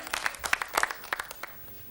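Crowd applause for a shot in a 1985 snooker match between Steve Davis and Nick Lazarus, a quick burst of scattered clapping that swells briefly and then thins out within a couple of seconds.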